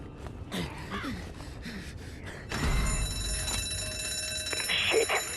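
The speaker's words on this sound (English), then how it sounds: "it was rigged to the alarm." In a supermarket in a zombie survival game, soft footsteps and small movements give way to a sudden loud, continuous electronic alarm that starts midway and keeps ringing steadily with a harsh, bright tone.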